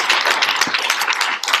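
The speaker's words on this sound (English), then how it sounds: "I want to give a round of applause for her." An audience claps in a brief, dense burst of applause at a UN Women event, close and fairly loud, with no voices over it.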